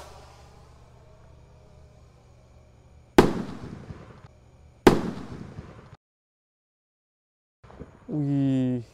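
Big Mars rocket fireworks are set off on takbiran night: two sharp, loud bangs a couple of seconds apart, each trailing into crackle, then a rising whistling fizz. A faint voice is heard at the start.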